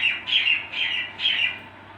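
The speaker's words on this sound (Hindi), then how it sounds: "आपको चिड़िया की चहकने की आवाज़ें आ रही होंगी" A bird squawks in the early morning at about six, with three or four harsh, close calls in quick succession over a quiet background, then silence.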